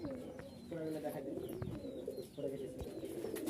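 Giribaj pigeons coo in soft, repeated throaty phrases at a pigeon fair in Rajshahi, close and fairly quiet, with crowd murmur and faint voices in the background.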